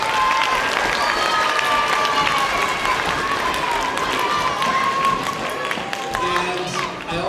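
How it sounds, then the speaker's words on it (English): Sustained audience applause at a school orchestra and band concert, a dense, steady wash of clapping from a full room with some crowd voices and cheering mixed in. "Let's give our families a round of applause."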